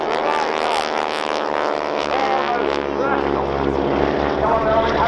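Deep, continuous rumble of a 9-cylinder radial aircraft engine at an airshow with wingwalkers, loud and steady with a droning propeller tone, while a commentator talks over it.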